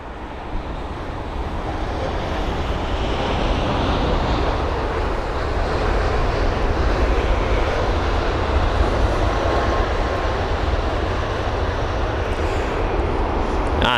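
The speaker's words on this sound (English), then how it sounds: "It's the United 7879 Dreamliner from Los Angeles LAX, a 9 hour and 49 minute long journey." A United Boeing 787 Dreamliner jet arriving at London Heathrow from Los Angeles produces a broad, steady engine roar that fills the whole stretch, loud and sustained with no voices.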